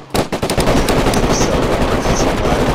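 Rapid automatic gunfire in the video game DayZ, a loud close burst of shots at the start followed by dense sustained firing that continues to the end.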